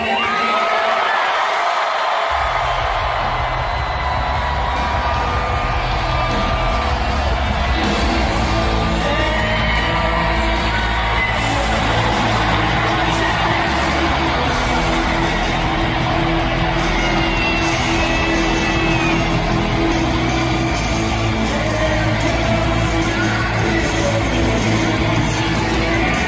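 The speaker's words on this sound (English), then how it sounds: "the crowd went wild to the point where Trump even had to say, wow" A huge crowd at a political rally with Trump and Robert F. Kennedy Jr. roars and cheers wildly in a dense, continuous wall of noise, loud and sustained for the whole stretch.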